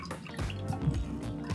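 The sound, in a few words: water pouring out of the top of a LEGO hand pump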